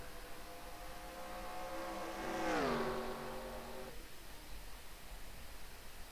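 Race cars in a racing video game at Pocono during a Cup Series race, with one engine note rising and sweeping down in a Doppler pass around 2.5 s, then cutting to a steadier hiss of cars on track.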